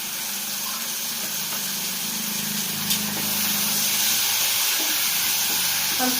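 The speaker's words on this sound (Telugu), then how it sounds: "ఉల్లిపాయలు అవి వేగిన తర్వాత దీనిలో కట్ చేసి పెట్టుకున్న ఆలుగడ్డ, క్యాప్సికమ్, క్యారెట్ ముక్కలు వేసుకోవాలి." Potato, capsicum and carrot pieces sizzle in a pan of frying onions for a vegetable masala curry, a steady close frying hiss with occasional stirring clatter, no talk.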